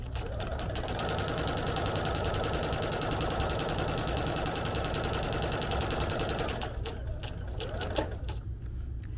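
A sewing machine runs steadily while stitching a straight line along a marked black line, its fast even whir continuing for most of the time before the motor slows and stops near the end.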